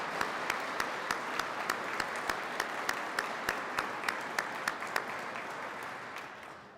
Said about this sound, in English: please offer them a round of applause for their hard work and dedication.